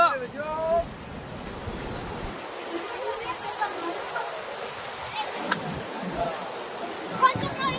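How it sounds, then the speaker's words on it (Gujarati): The flooded Banas river rushes after heavy upstream rain, a broad, continuous roar of fast water mixed with gusty wind buffeting the microphone, with a voice talking over it. "ઉપરવાસમાં ભારે વરસાદ પડવાથી આ પાણીની સપાટી વધી રહી છે બહુ જોરથી પાણી ચાલી રહ્યું છે"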